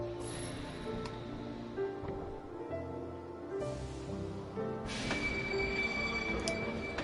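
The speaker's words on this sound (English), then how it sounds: "they're leaving on the train that Roxas wanted to get on" A train pulling away in Kingdom Hearts 2, with steady rumbling wheels and squealing metallic rail noise building over several seconds, set against a game soundtrack.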